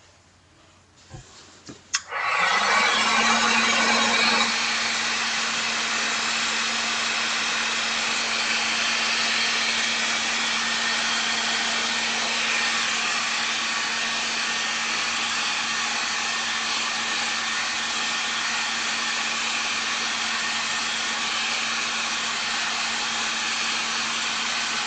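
A handheld heat tool clicks on and blows a steady, loud, close whirring hiss over a mixed media craft piece, holding an even drone for over twenty seconds with no talking.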